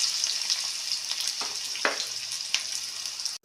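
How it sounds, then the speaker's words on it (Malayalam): Onions frying in hot oil for chicken biryani make a steady, close sizzling hiss, with a few brief stirring scrapes breaking through. "ഉള്ളി മൂത്ത് വന്ന് ഉള്ളിയും കൂടി ഞാൻ മാറ്റി വെക്കുന്നതാണ്"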